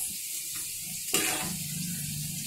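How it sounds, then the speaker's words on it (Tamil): Coconut rice mixture bubbling in a pot, a steady close sizzle and seething hiss with a louder bubbling swell about midway. "இப்படி கொதி வருது பாருங்க."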